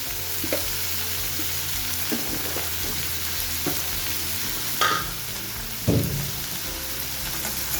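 Bitter gourd fries in a pan with salt, a dense, steady sizzle right up close, punctuated by several scraping stirs and a couple of sharper knocks of the utensil against the pan.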